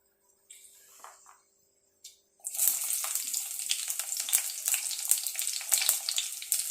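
Onions drop into a hot pan for a Sri Lankan prawn curry with coconut milk, bursting into a loud continuous sizzle after a few quiet handling clicks, with occasional spatula taps.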